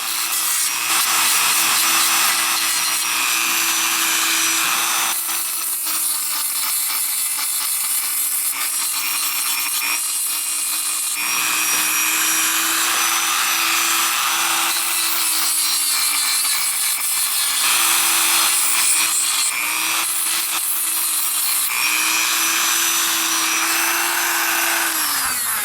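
A bear claw is rubbed steadily by hand to polish it, a close, continuous scratchy rubbing with a faint tonal hum and brief changes in stroke.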